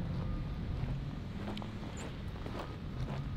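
Wind buffets a microphone outdoors at a steel building construction site, a low, continuous rumbling roar with faint scattered knocks in the background.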